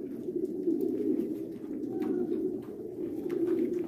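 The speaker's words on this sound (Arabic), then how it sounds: "هنوريك الحمام في المكان كده بداية" Pigeons cooing steadily in an indoor room of a pigeon farm, a continuous low murmur of many birds close by with no talk.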